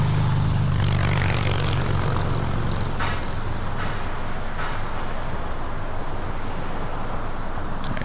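An airliner taxis at LAX, its engines a steady, loud broadband roar with a low drone that fills the whole stretch without a break.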